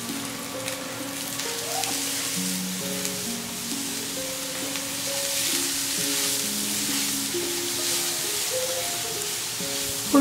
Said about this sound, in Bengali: এবারে আমি ফুলকপিটা দিয়ে দিচ্ছি।